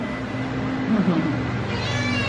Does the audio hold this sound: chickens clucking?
no